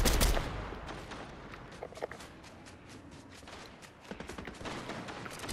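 Scattered gunshots from a video game weapon, faint and somewhat distant, with a louder hit at the start, then irregular pops and clatter mixed with footstep-like movement throughout.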